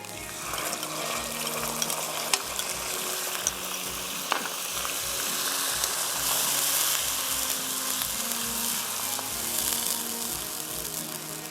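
Masala for bhindi paneer frying in a pan, a steady close sizzle running throughout with a few sharp ticks and clinks of a utensil against the pan, no voices.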